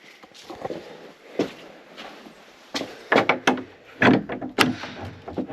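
A wooden door on a small woodland church or chapel is pushed open, with scattered knocks and scuffs building to several louder thumps and creaks near the end, heard up close.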